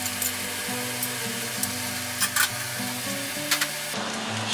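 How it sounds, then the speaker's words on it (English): Spaghetti being stirred through with ham in a frying pan, a steady soft sizzle with faint scraping and clinks of the utensil against the pan, close up with no voices. "Stir that through with the ham."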